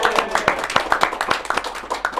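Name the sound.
clapping, applause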